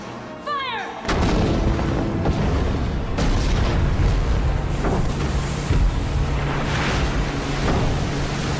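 Warships open fire in a shark movie: a brief swoosh is followed by a sudden heavy boom and then a sustained rumble of repeated gunfire and blasts at sea, with water sounds mixed in.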